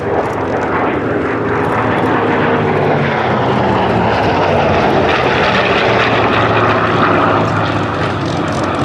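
A Hawker Fury, a silver Baghdad Fury built for Iraq and painted in Royal Navy Fleet Air Arm markings, flies past with a loud, steady piston-propeller drone that holds throughout, no voices heard.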